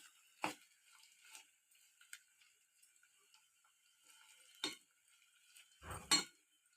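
Coconut rice with fresh grated coconut being stirred in a pot, a few scattered scrapes and clinks of a spoon against the metal separated by near silence, the last stroke louder and fuller.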